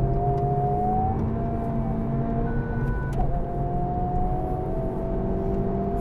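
A 2023 Honda Civic Type R accelerates hard on a race track in fourth gear, its engine note rising steadily as a sustained whir and drone heard from inside the car, with no talking.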